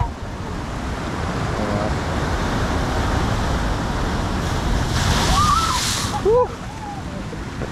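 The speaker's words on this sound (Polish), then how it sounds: "Zobaczcie, jakie wielkie fale, naprawdę ogromne." Big ocean waves crash onto the beach at Ponta do Sol in a continuous loud roar of surf that swells into a heavier surge near the end, with faint voices briefly audible.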